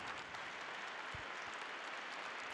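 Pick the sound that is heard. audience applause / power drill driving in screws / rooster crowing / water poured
audience applause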